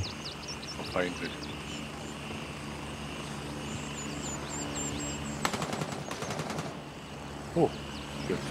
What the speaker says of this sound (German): Kommt der nächste Heli an. Feindlich.